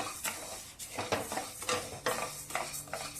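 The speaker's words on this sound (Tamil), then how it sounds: "சம்பா கோதுமை நூற்றி ஐம்பது கிராம் இதுவும் வறுத்து எடுத்துக்கலாம் மிதமான தீயில வச்சு" Samba wheat dry roasting in a pan over a medium flame, with a rhythmic scraping and rattling as the grains are stirred, repeated strokes close and moderately loud, no talk.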